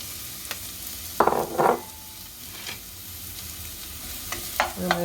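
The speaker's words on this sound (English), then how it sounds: "So we're going to add our onions to our pan." Onions tipped into a pan for spaghetti Bolognese and stirred, giving a soft steady sizzle with a couple of louder bursts of scraping and stirring, close up and unaccompanied by talk.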